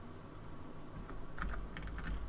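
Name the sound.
clicking noise in cockpit, from Microsoft Flight Simulator video game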